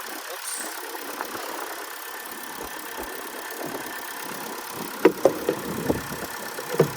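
A 2004 Infiniti G35 engine idling roughly with a possible misfire, a low uneven idle with a few sharp knocks and clicks near the end, close by.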